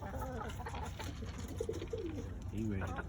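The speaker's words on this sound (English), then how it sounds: "Little young bird." A young bird in a pigeon loft gives soft cooing calls in short bursts, close by, over steady low background noise.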